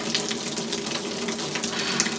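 Steady, dense wash of falling water, a continuous broadband hiss like heavy rain pouring down close by on a boat, with no voices.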